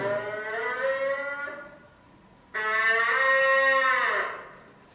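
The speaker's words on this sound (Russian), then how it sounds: "Если у оленей рев, то у лосей вот такое мычание." Two drawn-out, low moaning calls from a bull moose, the second longer and louder, separated by a brief quiet pause.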